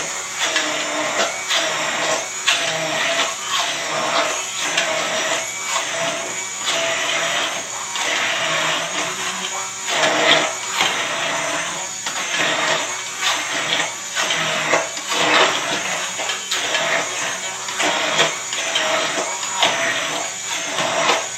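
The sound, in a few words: blender blending cauliflower mash with chicken stock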